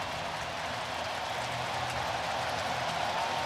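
A sellout crowd of 43,000 at a Cubs–Brewers playoff baseball game roars and cheers as fans rise to their feet, a dense, steady wash of distant crowd noise with no clear voices.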